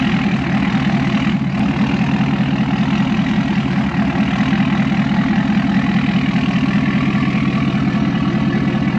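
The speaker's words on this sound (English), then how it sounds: "The truck sounds great though." A pickup truck's engine idles close by with a steady, loud, even rumble and a continuous mid-range drone throughout, with no talking.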